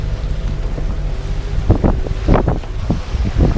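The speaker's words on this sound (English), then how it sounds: "We are sailing across the Bahamas Banks." A sailboat crosses the shallow sand-bottomed Bahamas Banks in a pleasant breeze, with steady wind rumble on the microphone and water sloshing and splashing against the hull in irregular bursts, no voices.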